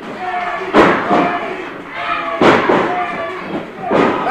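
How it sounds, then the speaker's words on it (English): A wrestling-match crowd claps in rhythm for the champion, with heavy slams and thuds landing roughly every second and a half under a commentator's voice. "The Crowd clapping, trying to give the champion their energy."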